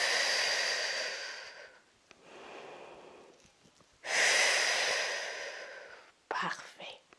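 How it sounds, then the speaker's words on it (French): Deliberately loud yoga breathing, several long audible breaths in and out with airy whispery rushes, each swelling and fading, close to the microphone. "Volontairement, je fais une respiration plus forte pour que vous entendiez à quel moment j'inspire,"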